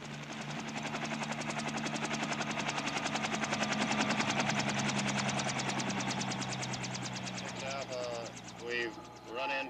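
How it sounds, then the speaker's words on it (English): Military helicopter rotors thump in a fast, steady rhythm as the helicopters descend on villages during the Vietnam War, loud and close, the engine whine rising and falling as a voice speaks near the end. "helicopter units make a surprise descent on suspect villages"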